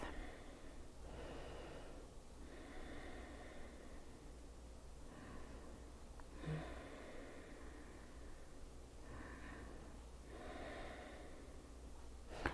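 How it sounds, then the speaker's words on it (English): Slow, deep breaths during a calming yoga session, soft airy inhales and exhales recurring every couple of seconds, close and quiet over a faint steady hum. "Deepening the breath and listening to the breath."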